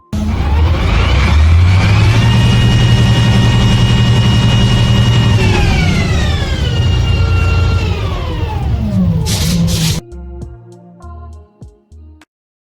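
Loud, continuous mechanical drone from a Volvo Ailsa double-decker bus with Van Hool bodywork in Scotland, 2021, the engine pitch steady, then rising and falling before cutting off abruptly, followed by sparse tonal sounds.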